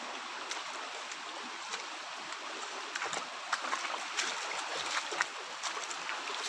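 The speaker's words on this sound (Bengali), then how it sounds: "খালি জলের শব্দই," Steady broadband rush of a waterfall stream flowing outdoors, continuous and fairly faint, with small splashy flickers and no talking.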